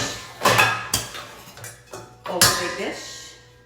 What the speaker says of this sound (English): you can take an oval bake dish